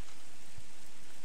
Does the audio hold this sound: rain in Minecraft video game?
yes